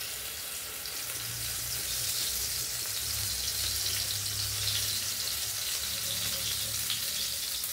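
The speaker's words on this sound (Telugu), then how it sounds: "ఆయిల్ పోస్తున్నానండి" Oil is poured into a hot kadai for a brinjal and raw mango curry, giving a steady soft sizzle and hiss that stays even throughout, close and moderately quiet with no talk.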